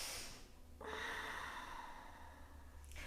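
A deep, drawn-out breath taken during a yoga flow, a long airy rush of air close to the listener lasting a couple of seconds, with a brief sharp intake at the start and no talking.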